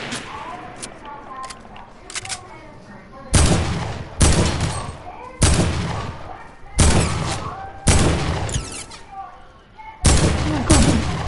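Gunfire in a PS4 video game, loud bursts of rapid shots coming in repeated volleys about every second or so, with quieter game sounds between them.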